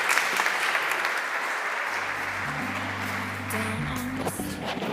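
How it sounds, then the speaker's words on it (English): Sustained applause from a conference audience at a consumer-rights forum, a dense, steady clapping wash lasting the whole stretch, with faint room hum beneath and no talking. "give a big, big round of applause for Stefano Quintarelli"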